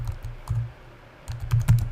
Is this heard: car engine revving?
no